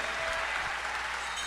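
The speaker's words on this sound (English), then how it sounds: "Let's all give her a round of applause." An audience at an opposition party anti-crime town hall meeting at Naparima College gives a steady, dense round of applause, fairly distant and even throughout, with no voices on top.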